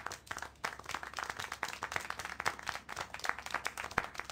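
Clapping in the video game Syberia comes as a fast, uneven run of hand claps that keeps going at moderate loudness.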